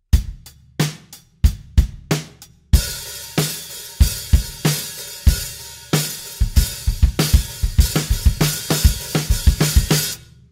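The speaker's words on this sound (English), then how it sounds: "Just lift the hi-hats up a little and it will just rock everything you do up." Drum kit groove with open, lifted hi-hats from a drum lesson: a few sparse opening hits, then a steady beat of kick and snare under washy, sizzling hi-hats, close and loud with no talking.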